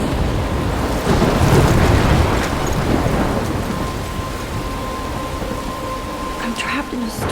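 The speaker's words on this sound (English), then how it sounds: "I'm trapped in a storm?" Stormy weather in the game Life Is Strange, with steady loud rain and wind over a low thunder rumble that swells early then eases, while a voice speaks over it.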